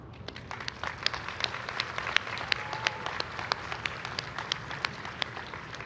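Scattered applause from a law school commencement crowd, sharp individual claps spread across the hall at moderate distance, steady for several seconds without speech.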